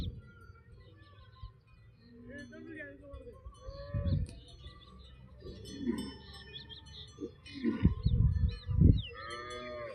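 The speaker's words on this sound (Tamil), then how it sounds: "மாடு வருது." Cattle low and moo several times in a Madurai village, the calls rising louder toward the end over a quiet background with faint voices.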